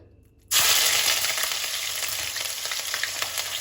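After a quiet moment, a loud, sudden sizzle erupts as ginger and garlic hit hot mustard oil, then crackle and fry steadily.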